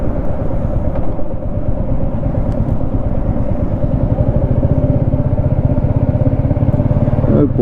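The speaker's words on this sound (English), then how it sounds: "The exhaust sound is always going to be good" A Royal Enfield motorcycle exhaust thumps in a steady, loud, rapid pulse as the bike cruises along, holding a constant engine note close to the microphone for the whole stretch.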